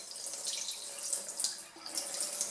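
Rinse water pours steadily off washed rice being tipped out of a pot for a Gambian meal, a continuous close splashing trickle with no talk.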